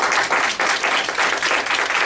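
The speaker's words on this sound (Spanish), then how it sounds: "Nos damos otro aplauso" Loud, close audience applause at the close of a community talk on family history and violence, a steady burst of many hands clapping with a faint pulsing rhythm.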